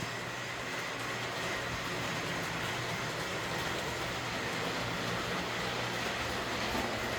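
Steady rumbling train noise with a constant broadband hiss and low hum from the built-in sound of a model train passenger car on a Christmas layout, continuous and fairly close, no voices.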